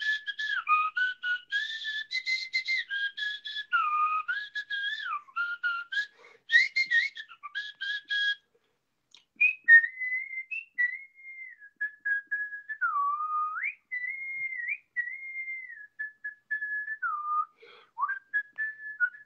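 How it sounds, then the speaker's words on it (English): A person whistling a wandering tune alone, clear and close, in two phrases split by a short pause. "You didn't come to watch me whistle."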